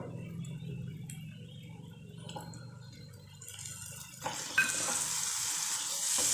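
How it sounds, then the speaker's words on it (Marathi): Peas sautéing in spice masala for matar paneer. Soft scraping and ticking stirring sounds give way to a louder, steady hissing sizzle near the end, close by with no voices. "तो छान असा आपण परतून घेऊया मसाल्यात"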